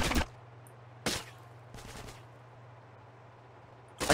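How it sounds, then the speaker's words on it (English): Sharp, loud bursts of gunfire in the video game GTA San Andreas, spaced out over a few seconds with a quieter steady hum between shots. "Who's shooting me?"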